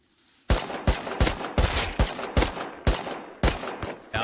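Rapid bursts of gunfire in the Rust video game during a roleplay chase, about nine sharp loud shots in quick uneven succession with no talk over them.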